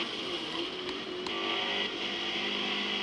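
Steady, continuous engine drone from a Mazda Miata racing in Forza Motorsport, holding a sustained mid-high tone at moderate loudness with no speech over it.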